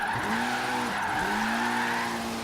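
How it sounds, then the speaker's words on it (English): Mitsubishi Evo IX, all-wheel drive, drifting sideways on the handbrake in Forza Horizon 3, steady engine drone with tires squealing and a brief dip as the slide shifts, close and continuous. "Just ripping the handbrake there, trying to keep it sideways"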